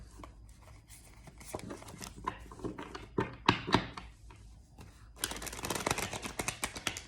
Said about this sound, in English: I'll shuffle a little bit.